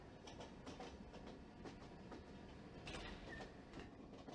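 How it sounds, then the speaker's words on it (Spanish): A train rolling past in the game Thief 2X, steady rhythmic clickety-clack of wheels over rail joints with a continuous mechanical rumble, fairly faint and unbroken, with no voices. "Me encantan los trenes"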